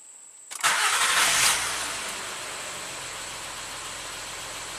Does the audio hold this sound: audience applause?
no